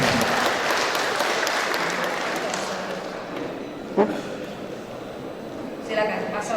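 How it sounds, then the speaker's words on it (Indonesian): Audience applause at a mayoral election debate in Pagar Alam city, a steady broad wash of clapping that slowly fades, with a sharp clap near the end and voices underneath. "oke, baik, terima kasih, tepuk tangan"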